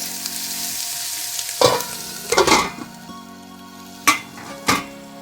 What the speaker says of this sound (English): So I'm going to just close the lid and let that sizzle a bit.